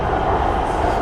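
Bangkok BTS Green Line sky train running on its elevated track, a steady close rumble with broad continuous roar and no gaps, with no voices over it.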